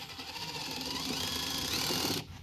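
A power driver runs screws in to mount a switch controller in a camper van, giving a close, steady high-pitched whirring buzz for about two seconds before cutting off abruptly.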